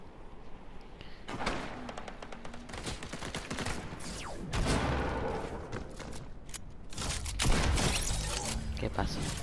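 Gunfire in the Fortnite video game, bursts of sharp shots and impacts scattered through the clip, fairly loud, with a voice talking over parts of it.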